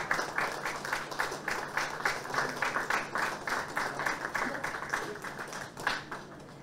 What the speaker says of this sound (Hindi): निकुंज जी के लिए जोरदार तालियां।